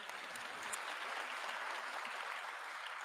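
Audience applause at a New Thought service fills the space, a steady, dense patter of many hands clapping at moderate distance, sustained throughout without anyone speaking.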